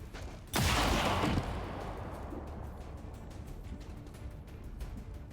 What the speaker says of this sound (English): And then I guess we just shoot him.